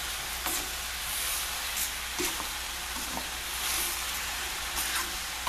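Arborio rice toasts and is stirred in a hot pan, a continuous loud sizzling hiss with periodic scrapes and soft knocks of the spoon; close, steady, no voices.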